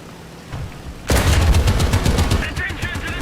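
Tank cannon and machine-gun fire in an American and British tank combat video game, a sudden loud burst after a quiet lead-in, then sustained rapid rounds and booms continuing to the end.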